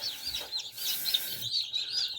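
Newly hatched chicks peep and chirp in high, thin repeated calls close by, joined by softer clucking from chickens in an incubation and poultry-raising setting, with no talking.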